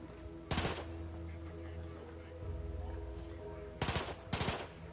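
Rifle shots in Outer Worlds 2: a short close burst near the start, then two more sharp bursts close together near the end, loud against a quiet hum.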